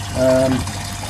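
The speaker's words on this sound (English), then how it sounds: "There's the air stone bubbling away." An aquarium air stone bubbles in a DIY moving bed filter, a short, close burst of gurgling and trickling water that lasts under a second.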